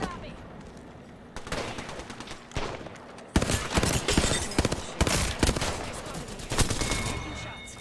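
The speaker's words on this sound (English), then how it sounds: "Taking shots." Rapid bursts of automatic gunfire and single shots in a video game, dense and loud, rising in intensity midway, with a player talking over the action.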